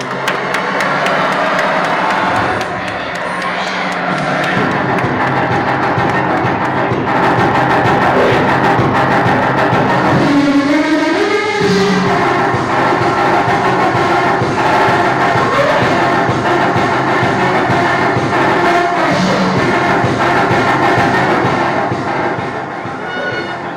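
A crowd applauds and cheers steadily throughout at a food awards ceremony in Prayagraj as a sponsor is welcomed onstage, with music playing underneath the sustained clapping.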